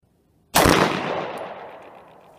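A Wilson Combat custom Glock 19 Gen 5 pistol fires one loud, close shot of SIG ammunition on an outdoor range, a sharp crack followed by a decaying echo that fades over about two seconds.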